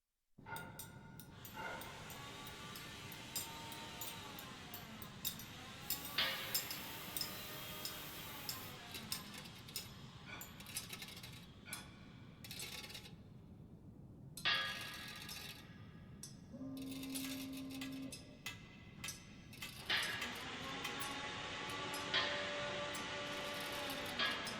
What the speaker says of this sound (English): there's also white noise and short sounds of the conveyor belt scattered in the stereo field